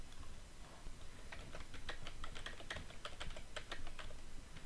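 Fast typing on a computer keyboard, a quick irregular run of light clicks and taps, close and fairly quiet with no talking.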